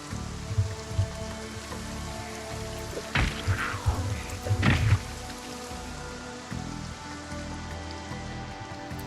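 Steady, heavy rain patters continuously across the outdoor scene of the Project Zomboid video game, a dense hiss that persists throughout with a few louder splashy bursts midway.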